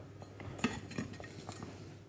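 Celery stalks roughly chopped with a knife for bone broth, a handful of soft, irregular knocks against a board, close and quiet.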